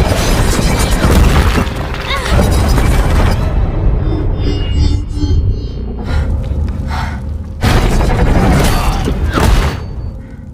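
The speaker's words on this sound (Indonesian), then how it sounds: "anak buah Pogel malah mati terkena jebakan ranjau tersebut" Mine trap detonating in a Tomb Raider film scene, a loud booming crash with rumbling debris that stays dense for several seconds, dips, then surges again in a second heavy burst.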